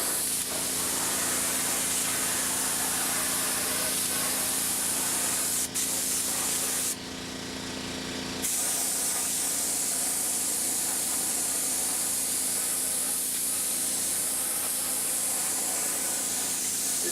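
Battery-powered paint sprayer applying silver paint to a cabinet, a loud steady hiss running nearly the whole time with a short break partway through before resuming close and continuous.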